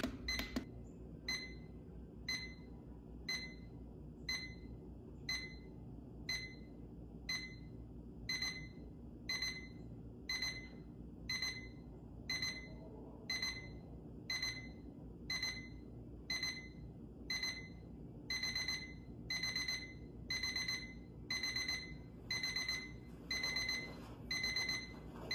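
A Doveet atomic clock weather station alarm beeps in quick repeated bursts, regular pulsed groups that continue for the whole stretch, close and clear over faint room noise.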